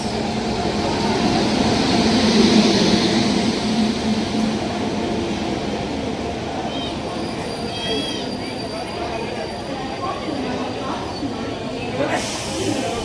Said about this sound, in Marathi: तर फायनली आपली ट्रेन आली आहे आता